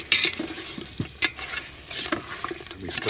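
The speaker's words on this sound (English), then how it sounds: "We stir that around for a second or two." Meat masala with double cream being stirred in a pan, spoon scrapes and clinks over a gentle sizzle, close and uneven, no voices.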